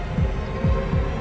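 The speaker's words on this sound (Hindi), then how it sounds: "तुम्हारे दिल की धड़कन भी बहुत तेज चल रही है।" A fast heartbeat thumps three times in a quick, even rhythm, low and muffled over a steady droning hum.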